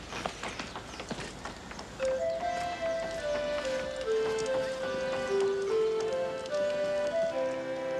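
Horse hooves clip-clop at a steady walking pace in a 1992 Australian film, the quiet rhythmic knocks soon partly masked by a gentle melodic music score.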